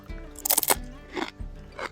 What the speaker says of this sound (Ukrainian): Ну тут, понятно, хрумкотіння.